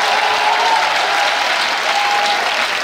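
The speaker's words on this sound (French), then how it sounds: "On se lève pour donner l'acclamation à Jésus" A church congregation standing to applaud and acclaim Jesus: dense, sustained clapping from a large crowd, loud and even throughout, with a faint tonal cry or whistle riding over it.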